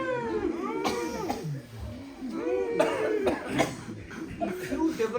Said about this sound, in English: If you develop cough, that means you have tried to affect the right place